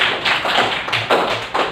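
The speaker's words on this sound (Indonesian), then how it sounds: "tepuk tangan untuk semuanya" A small indoor group claps in short uneven bursts, a few scattered rounds of hand claps rising and falling over a couple of seconds with no talking.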